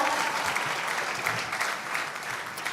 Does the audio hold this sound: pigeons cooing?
no